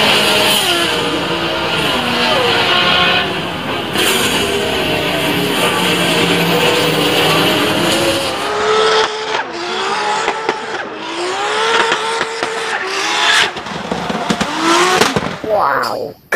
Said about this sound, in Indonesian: Wahai, mobil balap.